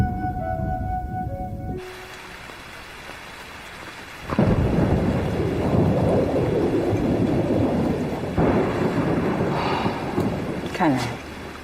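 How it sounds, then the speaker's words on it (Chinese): A brief musical passage gives way to a thunderstorm with heavy rain: a loud, sustained roar of downpour with rumbling thunder that swells and stays strong to the end. "又是一场暴雨。"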